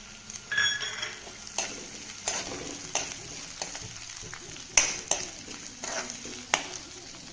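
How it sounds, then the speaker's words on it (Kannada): Green chilies fry in a pan for leftover idli manchurian, a soft steady sizzle broken by regular scraping strokes of a spatula stirring them, close and moderately quiet. "ಮೆಣಸಿನ್ಕಾಯಿ ಹಾಕ್ತೀನಿ"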